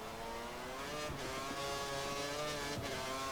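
A Formula 1 car engine at full throttle in the racing game F1 2013, a steady high-pitched howl climbing in revs, up close and continuous, with no talking.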